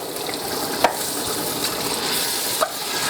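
Tomato sauce stirred in a pot for a lasagna, a continuous bubbling sizzle with two brief spoon clinks against the pot, close up and without talk.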